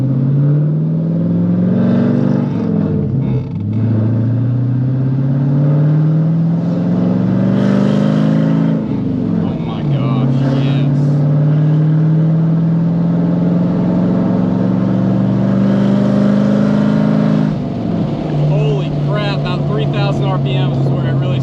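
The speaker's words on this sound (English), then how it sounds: "when you're revving it up in those high RPMs, and it sounded pretty freaking good, like a car, more so than a truck" Manual V8 truck fitted with an equal-length center exhaust, revved hard to high RPM in repeated loud, rising pulls with brief drops between them, the engine note steady and close throughout.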